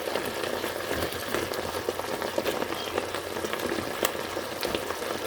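Beef with beans and pechay sizzles and fries steadily in a pan, a dense crackling hiss with scattered pops and a few stirring scrapes, close up and with no talking.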